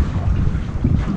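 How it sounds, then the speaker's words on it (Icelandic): Strong wind at an outdoor competition site in Iceland buffets the microphone with continuous loud, low rumbling gusts, close and unbroken, with no voices. "Það er vindur hérna"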